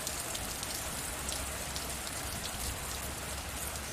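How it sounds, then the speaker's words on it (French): Constant rainfall patters on surfaces, a thick, even hiss of countless drops with a soft low rumble beneath. "Entends la pluie."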